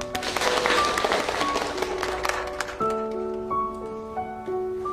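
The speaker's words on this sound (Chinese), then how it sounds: "让我们用掌声欢迎新同学的到来。" Classroom of students clapping in welcome for a new classmate, a dense burst of applause in the first few seconds that gives way to sustained musical tones, with no talk.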